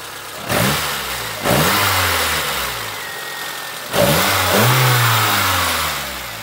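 Nissan SR20DE engine on Specol 5W40 Gold oil with gas injectors, running close up with a steady mid-pitched drone and three quick revs that rise and settle back, no voices.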